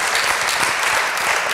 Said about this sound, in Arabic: تصفيق على مطران